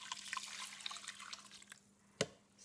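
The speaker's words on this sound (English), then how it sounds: "now I'm going to pour in my 2 cups of stock" Chicken stock poured into a pot for a one-pot chicken dinner, a close, bright liquid splashing and trickling that fades, followed by a single sharp clink near the end.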